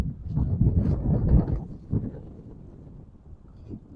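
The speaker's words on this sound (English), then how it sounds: "little breezy here." Breezy outdoor wind buffeting a microphone in a garden of in-ground fig trees, loud rumbling gusts early on that ease into a steadier, softer blow, with no talking.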